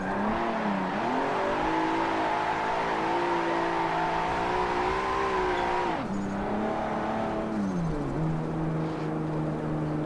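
Engine of a Nissan S13 in a driving simulator game, rising and falling in pitch as it revs and shifts gears, loud and continuous with no talk.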